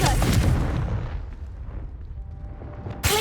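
Heavy fiery blast of a Confringo spell in Hogwarts Legacy, a loud booming burst that rumbles and slowly fades, ending with a fresh sharp impact.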